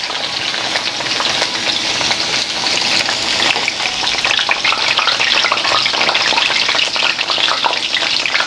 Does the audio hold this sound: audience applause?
no